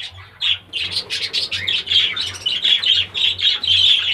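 Parakeets in an aviary, females just released among the males, keep up a dense, loud stream of shrill squawks and chirps at close range, the chatter almost continuous with no talking.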